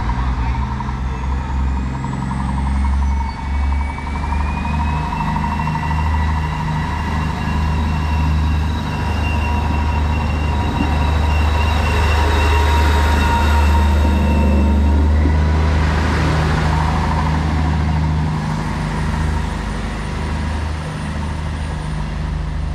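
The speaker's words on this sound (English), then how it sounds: "East Midlands Railway service to Manchester Piccadilly from Nottingham." An East Midlands Railway passenger train bound for Manchester Piccadilly rumbles steadily past a station for a long stretch, with low engine drone, rolling wheel noise and some squeal, while voices talk faintly underneath.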